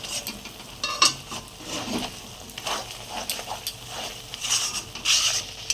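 Shrimp bhorta being fried in a pan until dry, with a spatula scraping and tapping in irregular bursts over a soft sizzle, close and moderately loud.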